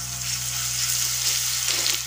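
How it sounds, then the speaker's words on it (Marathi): Ground green chili frying in hot oil, a steady close sizzle with a constant low hum underneath and no voices. "तेल गरम झाल्यानंतर आता आपण यामध्ये घालणार आहोत वाटलेली हिरवी मिरची."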